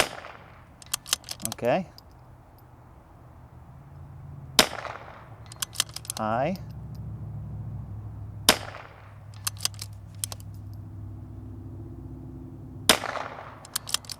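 A Vudoo 360 rimfire rifle fires several sharp, separated shots at 150 yards, each crack followed by a short ringing tail, with brief talk between the shots.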